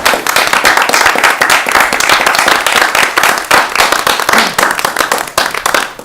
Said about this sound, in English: Could we just have a sense of the board and a little applause for Catherine